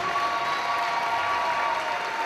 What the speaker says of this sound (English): A nice round of applause for Susan Chase and all the hardworking volunteers